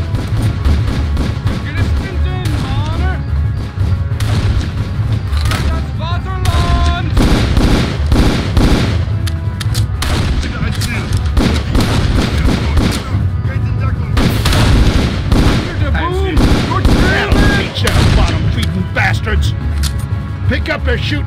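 Rapid gunfire and explosions in the video game Darkest of Days are loud and nearly constant, with dense bursts of shots and booms. Shouted voices and game music run underneath.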